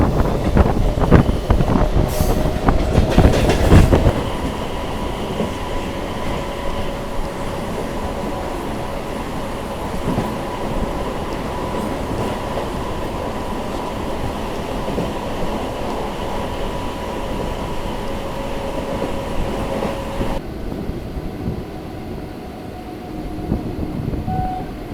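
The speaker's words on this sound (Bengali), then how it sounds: "তো আমাদের ট্রেন এখন ছেড়ে দিল মগরা রেলওয়ে স্টেশন" A local train on the Bandel to Barddhaman line rumbles along after leaving Magra station, a steady rolling clatter heard from inside, with a louder burst of noise at the start.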